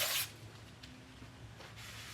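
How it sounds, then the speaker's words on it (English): Brake cleaner sprayed onto the face of a brake rotor on a 2020-present Nissan Sentra's rear brakes: a loud hissing burst at the start, then quieter intermittent hissing sprays close by. "I'm just going to spray some brake cleaner on here, just to clean the face of this rotor."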